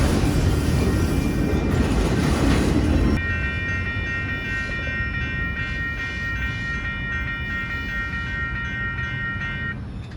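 A long Union Pacific freight train with distributed power, auto racks and intermodal cars rolls past near Sacramento, a loud roaring passage that drops to a steadier rumble with tonal wheel squeal sustained alongside.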